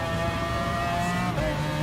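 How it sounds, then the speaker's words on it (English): A race car's engine screams at high steady revs while overtaking an Aston Martin at Suzuka in Gran Turismo Sport, a sustained whining drone with a slight pitch dip as the pass completes. "Getting up on this Aston Martin here, I'm doing a nice pass on that car"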